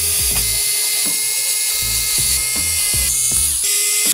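A stand is fastened with screws to a mini gaming PC, giving a run of repeated ratcheting clicks and mechanical taps, loud and close, with no voices.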